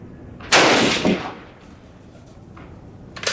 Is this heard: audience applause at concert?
no